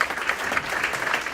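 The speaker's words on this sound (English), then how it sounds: "so we can have another round of applause for the committee" An audience at a high school hall of fame ceremony applauds the committee, a brief, steady burst of many hands clapping at moderate distance.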